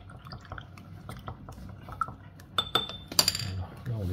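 A spoon stirs agar-agar into a pot of watermelon jam, with soft wet swishing and several sharp clinks of metal against the pot, close and fairly quiet.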